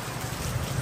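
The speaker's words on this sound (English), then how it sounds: "It's raining." Steady rain pours down, a dense continuous patter and hiss without pause, with no voices.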